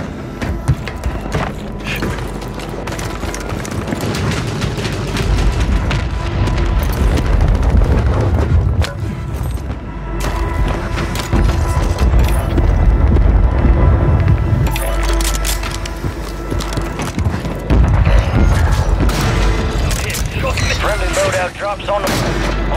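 A called-in artillery strike pounds the map in the Call of Duty Warzone video game on Rebirth Island, with a loud, continuous barrage of heavy booms and gunfire cracks rolling on without pause.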